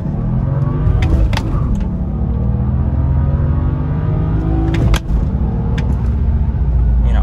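Loud, close engine of a BMW 335i pulls hard through the gears from inside the car, rising in pitch with a brief dip at a shift, with no talk.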